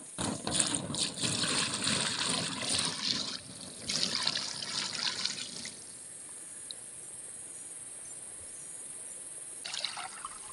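Water is poured onto plastic-mulched planting beds, a loud close splashing and trickling for several seconds that then falls away, leaving faint crickets and a brief later splash.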